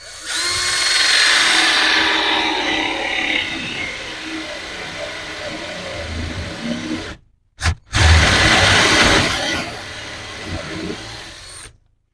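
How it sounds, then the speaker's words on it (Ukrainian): A cordless drill turning a 35 mm cup cutter bores a hinge cup hole in a furniture panel, a loud close whine and grind that runs for several seconds, stops briefly, then resumes before cutting off. "фрезою 35 мм засверлюю під чашку петлі"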